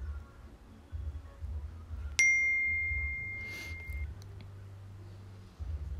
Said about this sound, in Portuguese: ativar o sininho